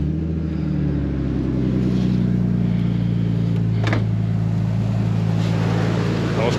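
A Nissan Skyline R33 with an RB25 turbo engine and HKS air intake idles steadily nearby, a low continuous rumble with a brief sharper blip midway.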